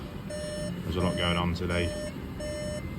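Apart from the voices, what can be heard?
electronic beeping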